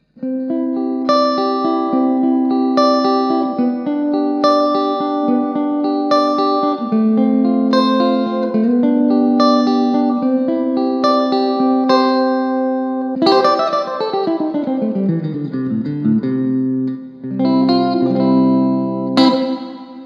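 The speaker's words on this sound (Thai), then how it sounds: "ก็เป็นแบบฟิลแบบสปริงรีเวิร์บนะ" Electric guitar played through an Orange CRUSH-20RT amp with spring reverb turned up, ringing sustained notes and chords that bloom into a wet reverberant tail, ending with a sliding, cascading run and a few final strummed chords.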